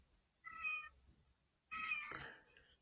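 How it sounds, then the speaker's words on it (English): Two separate cat meows, fairly quiet and close, with a short pause between them; the second is longer and more drawn out. "Oh, kitty."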